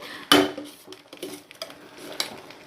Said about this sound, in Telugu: తర్వాత గరిటతో కలుపుకుంటూ ఒక 5 నిమిషాల పాటు మనకి కొంచెం ఆ రైస్ కూడా కలర్ చేంజ్ అయ్యే విధంగా ఉంటే బాగుంటుంది